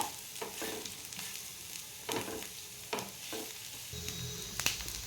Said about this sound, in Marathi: कांदा आपला व्यवस्थित परतवून घ्यायचा आहे आपण